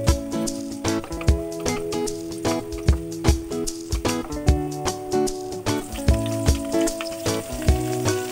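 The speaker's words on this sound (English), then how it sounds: "Saute garlic and onion." Garlic and onion sauté in hot oil in a pan, a close, steady sizzle broken by repeated stirring scrapes and clinks, over music.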